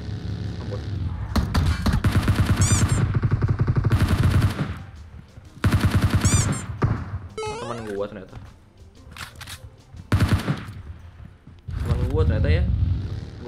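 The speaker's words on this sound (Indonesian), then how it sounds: "Baru dengar suara tembakan udah seneng nih." Bursts of rapid gunfire in PUBG Mobile crackle repeatedly in loud clusters, separated by brief pauses, with voices talking over and between the shots.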